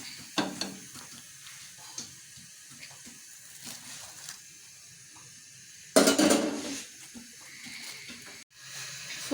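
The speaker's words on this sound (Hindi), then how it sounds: "फुल गरम ऑयल में इसी तरह से बेल के आप पूरियाँ जब वो डालते जाएं, फ्राई करते जाएं।" Hot oil sizzling and bubbling as pooris fry, a steady crackling hiss that swells into a louder burst midway, close by, with scraping and kitchen handling noises around it.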